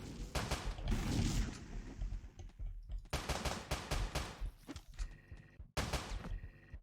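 Revolver shots in the top-down shooter Teleglitch: loud, sharp reports in quick bursts with brief gaps between volleys, over a constant game-sound backdrop.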